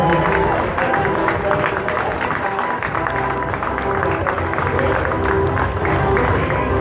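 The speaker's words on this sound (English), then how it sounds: "Can we have a huge round of applause for Pyramid Head?" An audience at a cosplay show during a gaming event claps and cheers, a dense, loud, sustained burst of applause filling the whole stretch without a break.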